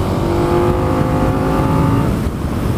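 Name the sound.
KTM 1290 Super Duke R motorcycle engine induction noise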